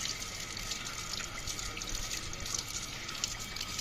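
Beetroot is rinsed under running water from a tap, a steady splashing stream with small irregular spatters and drips, fairly quiet and close, with no voices over it.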